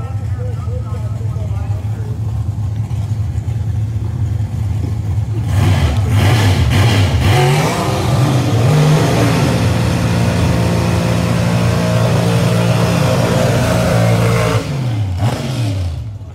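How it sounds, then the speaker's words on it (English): The Buck Brothers' deep burgundy Camaro nostalgia fuel-altered drag car at Eddyville, Iowa, rumbles, then roars into a loud, sustained high-rev burnout for about nine seconds before easing off, with an announcer talking throughout. "Let's see what kind of burnout we get out of these guys."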